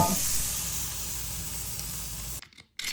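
A tomahawk steak sears over a fresh batch of hot coals, giving a loud, steady sizzling hiss that fills most of the moment before cutting off sharply near the end.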